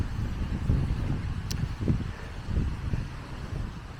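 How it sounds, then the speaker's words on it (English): Gusty wind buffets the microphone in low rumbling surges on an outdoor walk near a shopping centre by Caerphilly Castle, steady throughout with no voices. "it's getting windy now."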